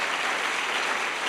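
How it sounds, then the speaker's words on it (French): A congregation applauding during a church service, a dense, continuous roar of many hands clapping that stays steady and full with no voices on top. "nous allons t'acclamer parce que tu mérites nos acclamations"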